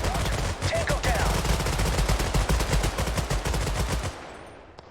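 Rapid bursts of automatic gunfire from a modern army squad-based shooter game, Total Conflict, rattle on in fast rhythmic volleys with a few voices underneath, then cut off abruptly toward the end.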